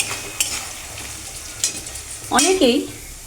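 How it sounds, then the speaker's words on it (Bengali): Mixed vegetables lightly frying in oil in a pan for fried rice, a steady sizzle with a few clicks of a stirring utensil, and a short burst of voice-like sound near the end. "এদিকে সবজিগুলো হালকা হালকা ভাজা হয়েছে, এবার আমি নামিয়ে নেব।"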